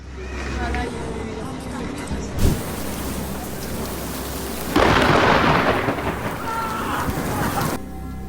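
Thunder from a nearby lightning strike crashes loudly through steady heavy rain, with a sharp crack partway through and a louder rumbling roar later on. A voice may be faintly present.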